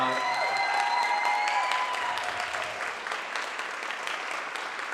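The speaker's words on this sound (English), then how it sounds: "give them one more round of applause" Audience applause after a college student production of King Lear Abridged, a steady dense clapping from a crowd in an indoor venue that holds for five seconds and slowly thins, with a brief word spoken at the start.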